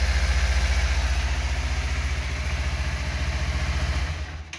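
Kawasaki Ninja 250 FI 2012 motorcycle engine idling close by, a smooth, steady low-pitched rumble with a fast even pulse that holds for several seconds before cutting off.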